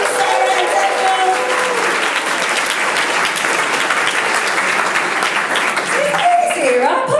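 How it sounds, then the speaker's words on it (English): An audience applauds volunteer teams at a public speaking session, with steady, loud clapping that fills the room, and a speaker's voice cuts in over it near the end. "Keep the round of applause going for all three teams, Sarah and Daniel."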